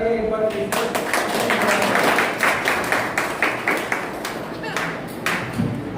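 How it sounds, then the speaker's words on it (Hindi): Audience clapping at a pigeon club prize distribution event, a dense burst of applause that thins into scattered individual claps toward the end, moderately close. "जोरदार तालियां एक बार।"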